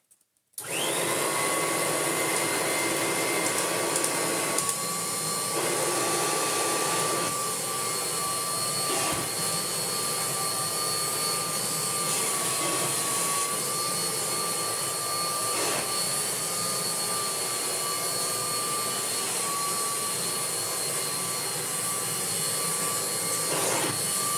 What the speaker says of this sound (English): we'll give it a quick vacuum and then we need to flip it over